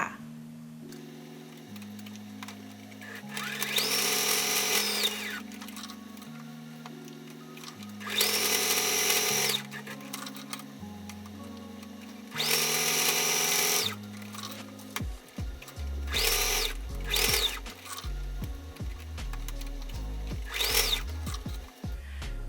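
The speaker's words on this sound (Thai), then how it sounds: "จะนำส่วนนี้นะคะไปเย็บทำเป็นลายผ้าค่ะ" A sewing machine stitches a decorative pattern into fabric for a game console case, running in three long whirring bursts with pauses between. Quicker, choppier runs follow at the end.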